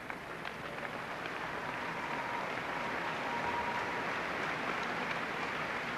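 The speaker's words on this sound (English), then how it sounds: "The applause that you are hearing is for some balance beam results." An arena crowd at a 1986 USA versus China gymnastics competition claps continuously, a dense, fairly distant wash of applause that holds steady throughout.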